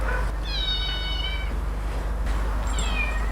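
Kittens meowing at an animal welfare shelter: two drawn-out, high-pitched mews, the first longer and clear, the second shorter near the end, close to the microphone over a steady low hum.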